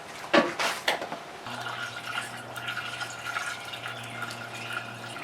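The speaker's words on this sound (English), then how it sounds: "We were adding coolant and we're getting a bit of a drip right away" Coolant pours into a Ford King Ranch truck with a 6.4 engine swapped to a 12-valve Cummins, then drips steadily, a soft liquid trickle after a couple of louder splashes near the start.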